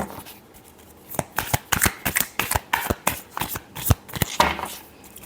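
Tarot cards riffled and shuffled close up, a fast run of crisp flapping and snapping bursts lasting several seconds, with no talking.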